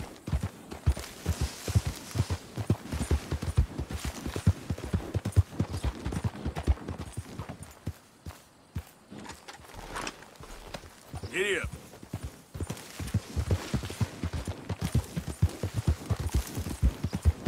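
Horse hooves clip-clop in a steady, close rhythm in Red Dead Redemption 2, pausing briefly midway before resuming at a trot, with a voice speaking over the hoofbeats.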